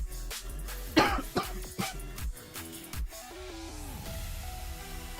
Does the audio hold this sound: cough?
yes